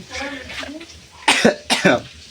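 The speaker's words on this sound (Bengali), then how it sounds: "খুসখুস করে যে কাশিটা হয় কাশিটা এখনো ভালো হয় নাই" A person with a lingering dry, tickly cough lets out two sharp, loud coughs close to the mic, following a stretch of voiced throat sounds.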